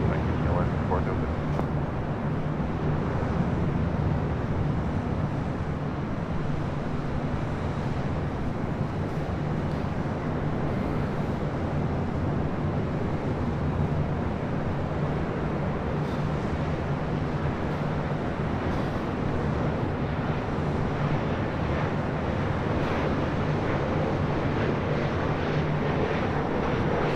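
A Korean Air Cargo Boeing 777 roars steadily at LAX, a loud, sustained jet engine rumble with wind buffeting that persists throughout without letup.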